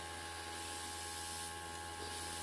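A cheap airbrush sprays fluorescent Vallejo paint with a faint, continuous hiss and slight sputtering over a steady low hum of the compressor.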